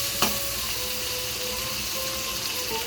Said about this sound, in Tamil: இப்போ இது நல்லா இந்த தக்காளி நல்லா வணங்கணும் நல்லா மசிகிற அளவுக்கு வணங்கணும் இந்த எண்ணெயிலே